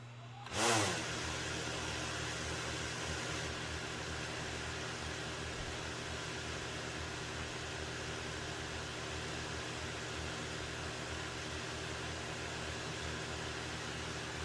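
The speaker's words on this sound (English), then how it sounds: "let's see how the Master Airscrew props manage with just a motor spin-up" DJI Mavic Air 2 drone fitted with Master Airscrew propellers, its motors spinning up with a sudden start and then holding a steady, even whirring hum, close by and without voices.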